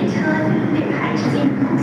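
A train pulls into a station with a steady low rumble and rail noise, close and continuous for a short moment, and no clear speech over it.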